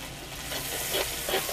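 White and black mustard seeds and chilli hit hot oil, giving a brief continuous sizzle with a couple of soft crackles and stirring sounds, close and moderately loud, with no voice.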